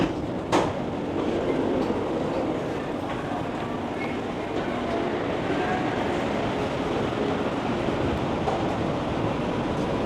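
A Bangkok Red Line metro train runs at a station. A loud, steady rumble of rolling wheels and motors fills the space, with one brief click near the start.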